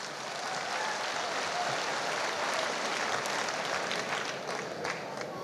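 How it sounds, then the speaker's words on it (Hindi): A large audience claps loudly for teachers at a motivational speech event, a dense, sustained wash of applause that holds steady for several seconds without talk. "एक बार जोरदार तालियां हमारे सभी गुरुजनों के लिए।"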